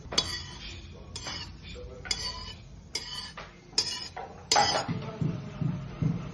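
A metal spoon scoops roasted poppy seeds out of a kadhai into a dish for modak, with a steady series of sharp clinks and scrapes against the pan, close and fairly quiet.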